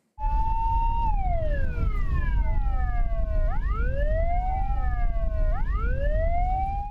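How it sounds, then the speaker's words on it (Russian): Loud wailing sirens of fire engines in Minsk Region rise and fall in long sweeping tones, several overlapping, continuous and close throughout. "Под звуки сирены пожарные машины МЧС Минской области выдвигаются"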